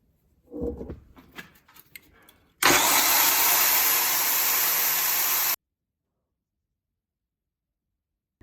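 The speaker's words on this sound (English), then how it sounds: "I'm gonna need to sharpen up this fresh piece of tungsten." Loud, steady whine of a bench grinder sharpening a fresh tungsten electrode for TIG welding, lasting about three seconds and stopping abruptly, after a few faint handling knocks.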